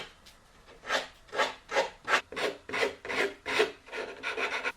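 Rhythmic back-and-forth rasping of sandpaper rubbed by hand across plywood, about ten even strokes, close and fairly loud.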